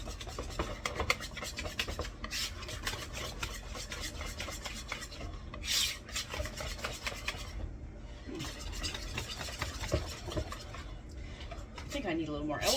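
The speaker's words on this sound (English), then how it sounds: "So I'm just going to blend this until it's nice and smooth." A mixture is worked by hand in a pan, giving continuous close scraping and rubbing strokes in an uneven rhythm, fairly quiet, with occasional breathing and brief voices in the background.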